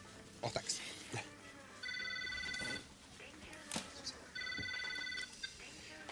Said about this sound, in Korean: 톰은 자동차 딜러에게 전화를 합니다